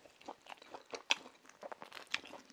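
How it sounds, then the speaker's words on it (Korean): Someone bites into a slice of salty pizza and chews, giving close, soft crunches in an uneven rhythm with one crisp bite standing out, and no talking. "자, 먹어보겠습니다. 피자가"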